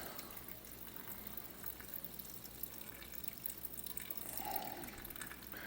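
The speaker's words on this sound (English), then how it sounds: "So now we're going to put some beef broth in here." Beef broth pours into a pot of hamburger soup on the stove, a faint continuous liquid trickle and splash running throughout.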